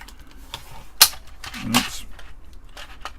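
A device case is pried open with a few sharp plastic clicks and a creaking snap, then light handling rattles, all close and with no talk.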